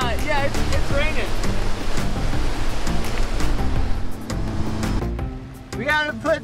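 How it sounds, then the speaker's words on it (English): Steady broadband wash of heavy thunderstorm rain and surf, with people talking and shouting excitedly over it throughout. "It's full on raining."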